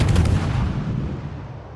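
Battleship Cossack's guns firing in World of Warships, a heavy booming salvo with rumbling low thunder that decays over under two seconds.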